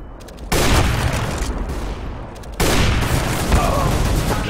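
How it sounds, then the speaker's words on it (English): Bursts of gunfire and loud blasts in a Counter-Strike match, with a flashbang among them; two sharp onsets kick off dense, sustained cracking that stays loud throughout. "Throwing flashbang."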